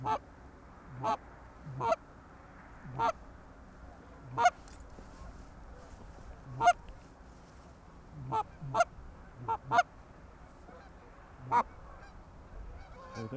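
Late-season geese honk in scattered single and double calls, fairly faint and distant, with short pauses between bursts over a quiet outdoor background.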